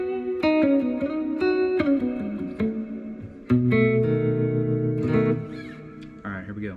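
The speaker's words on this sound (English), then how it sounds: "switch to the cathedral setting on my reverb." Mandolin and electric guitar notes played through a cathedral reverb setting, plucked phrases and sustained chords ringing out with long, washy tails; no talking.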